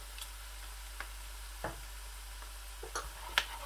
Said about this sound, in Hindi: इस तरह ज़ीरे को मिक्स कर लें, मिला लें।